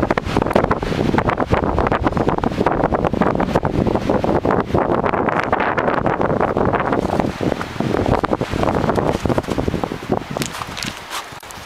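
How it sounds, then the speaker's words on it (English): Strong gusty wind roaring and buffeting the microphone continuously on a coastal rock, loud and close, with rumbling low noise and no voices. "it's kind of chilly and very windy"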